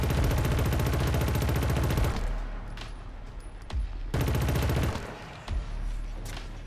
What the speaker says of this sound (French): je lui tire dessus, le truc là